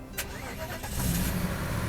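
A Mercedes-Benz W126 500SEL engine restarting up close: a brief click, then the motor cranks and catches into a steady running rumble.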